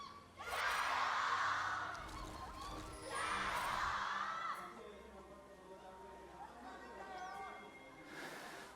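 A large indoor crowd at an esports arena during an LPL League of Legends match roars and cheers in two big swells, with whoops and shouts, settling into a murmuring hubbub before another burst.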